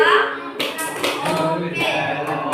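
A classroom of students claps together on the teacher's count in a classroom lesson, several sharp group claps ringing out at uneven intervals amid murmuring voices.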